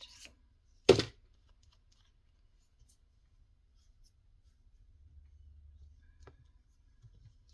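Paper being cut with scissors: a single sharp snip near the start, then quiet handling with a faint low rumble and a few tiny clicks.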